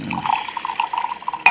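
Liquor pours into a drinking glass, a short gurgling, bubbling trickle up close, ending in a bright clink.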